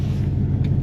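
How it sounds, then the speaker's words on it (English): A big old Chevy car idles in a snowy yard, its engine giving a loud, close, steady low rumble with a throbbing pulse, no voices. "let's get this big old Chevy out of here so Hunter can get his truck out"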